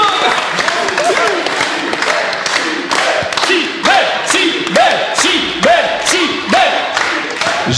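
A live audience applauds and cheers the winning team of a quiz duel, a dense, steady wash of clapping with a few shouts, while a voice speaks through it.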